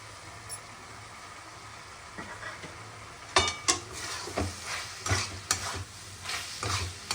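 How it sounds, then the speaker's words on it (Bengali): Fried eggplant pieces are dropped into a pan for a vegetarian banana flower curry and stirred, bringing soft sizzling and a run of irregular scrapes and knocks of a spatula against the pan, close by. "এবার এই যে ভেজে রাখা বেগুনগুলো এর মধ্যে দিয়ে দেব।"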